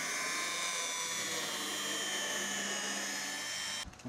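A rotary machine polisher running steadily with a hard white finishing pad on car bodywork, a continuous high whine that stays loud and even for several seconds before cutting off near the end.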